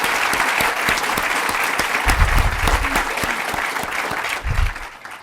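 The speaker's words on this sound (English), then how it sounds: "please join me in a round of applause to thank Richard for his generosity." An audience applauding at a 40th anniversary event, dense, steady clapping close by for several seconds that tapers off at the end.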